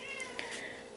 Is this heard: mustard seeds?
no